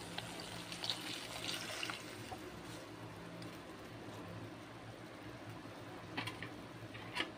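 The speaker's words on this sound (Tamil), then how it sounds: "பாருங்கள், புளியை எடுத்து வச்சுருக்கேன், இதை ஊற்றிடுவோம்." Tamarind water poured into a pot of paruppu rasam in a home kitchen, a faint, steady liquid trickle with light splashes and occasional clinks.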